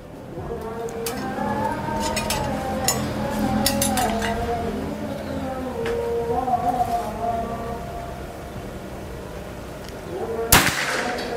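After a stretch of faint whining tones and low ambient hum, a single sharp shot from a PCP air rifle snaps out near the end.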